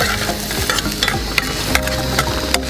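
Salted onions fry in a pan while a spoon stirs them, giving a busy, close sizzle with frequent scraping and clicking strokes throughout.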